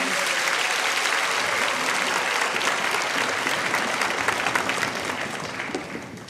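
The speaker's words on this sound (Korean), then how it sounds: "우리 교육자들을 위해 다시 한번 큰 박수로 격려해 주시기 바랍니다." A church congregation at a special early-morning prayer service gives sustained, dense applause for its educators, loud and steady throughout before tapering slightly at the end.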